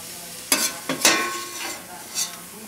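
Garlic sautéing in a pan for a seafood and chicken stew, with a few distinct stirring scrapes and bursts of sizzle over a quiet hissing background, close and fairly soft.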